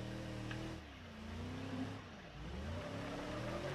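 A car engine in the BeamNG driving game is gunned hard, a steady loud roar that dips briefly and rises again in pitch as the throttle is pressed.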